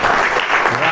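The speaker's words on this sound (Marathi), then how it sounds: "वाजवा टाळी त्यांच्याकरता" An audience at a devotional Ramcharitmanas katha discourse claps together, a dense burst of applause filling the whole brief moment, near and loud, with no talk.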